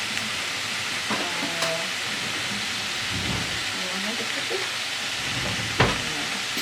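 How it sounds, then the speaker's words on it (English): Bacon strips sizzling in a pan as the fat renders for okonomiyaki, a steady hissing crackle with a few sharp pops and faint clinks, no voices. "So we're gonna render the fat here now"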